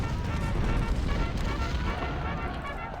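Booming artillery fire rolls through a Civil War battle in Ultimate General: Civil War at Antietam, a dense, continuous rumble of overlapping cannon blasts and explosions with no pauses.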